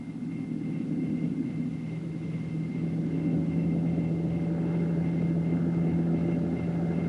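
A helicopter in forward flight gives a steady, loud rumbling drone with an even rotor hum that holds throughout, with no voices.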